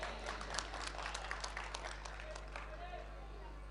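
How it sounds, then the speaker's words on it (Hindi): Audience clapping at a Hindi comic poetry recital, a moderate burst of applause that thins and fades toward the end, over a low steady hum. "चलिए एक बार तालियां बजाइए,"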